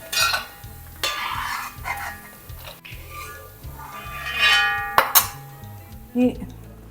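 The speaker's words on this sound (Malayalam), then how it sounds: "നമുക്ക് ഈ തേങ്ങാക്കൊത്തിയും നെയ്യും ഇങ്ങോട്ട് മാറ്റാം" Coconut pieces frying in ghee for halwa are stirred and scooped across a pan, with scraping, clinks of a metal utensil and a soft sizzle underneath, plus a couple of sharper knocks near the end.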